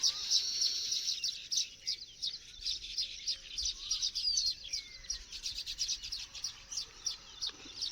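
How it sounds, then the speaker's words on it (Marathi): Rapid, continuous chirping of many weaver birds nearby in the morning, a busy twittering chorus with no voices. "कानाला मस्त वाटतं पक्ष्यांचा चिवचिवाट सकाळ सकाळ"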